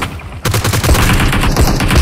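Rapid automatic gunfire in PUBG Mobile, a close, loud stream of shots after a short lead-in burst, firing almost continuously with heavy low thumps.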